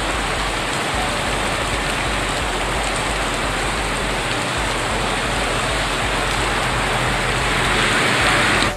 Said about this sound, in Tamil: கோவை மாவட்டம் அன்னூர் சுற்றுவட்டார பகுதிகளில் பலத்த மழை கொட்டியது.